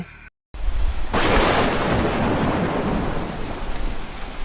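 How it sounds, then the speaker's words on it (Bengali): Heavy rain and thunder as a cartoon sound effect: after a brief dead gap, a loud, dense downpour rushes in with a deep rumble, then holds as a steady, close roar to the end. "পরদিন সকাল থেকে সারাদিন ভারী বৃষ্টি।"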